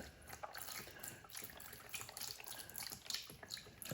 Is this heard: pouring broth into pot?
yes